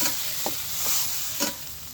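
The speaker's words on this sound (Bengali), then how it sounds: "চিংড়ি মাছটা নেড়ে দেবো" Shrimp frying in soybean oil in a wok, stirred in a few brief scraping strokes over a steady background sizzle, with no voices.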